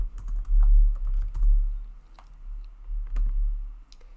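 Someone types an answer on a computer keyboard while setting up a website, producing irregular bursts of close, crisp key clicks with short pauses between them and no talking.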